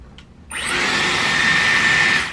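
A Dyson Airwrap hair styler starts up after a short click and blows a steady, loud whooshing stream of air with a faint high whine.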